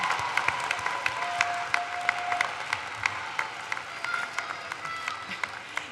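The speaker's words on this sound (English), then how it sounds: "give a good hand clap to all these people that are around" Scattered hand clapping from family and supporters at a Nashville State Community College commencement ceremony, moderately distant with sharp individual claps standing out over a thin crowd applause.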